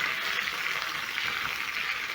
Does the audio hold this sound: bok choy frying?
yes